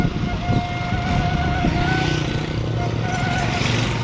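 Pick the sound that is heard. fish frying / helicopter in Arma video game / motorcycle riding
motorcycle riding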